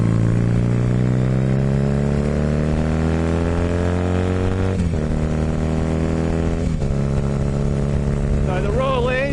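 Honda CB250 motorcycle engine droning steadily near the mic as the rider rolls along back roads, with two sharp breaks where the revs drop as gears are shifted down, and a brief rising whine near the end.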